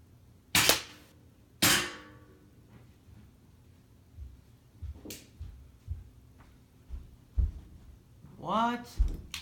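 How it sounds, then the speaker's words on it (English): An airsoft gun firing BBs, with two sharp close snaps near the start followed by softer clicks and handling knocks as it is reloaded, and a brief metallic rattle at the end. "Load it back up with 2 more shots and let's go try it again."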